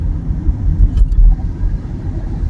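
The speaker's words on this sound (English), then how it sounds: "So these are the buses." School buses passing on an ordinary UK road near a roundabout, heard from inside a moving car as a steady low engine and road rumble, with a brief rise in the middle and no talking.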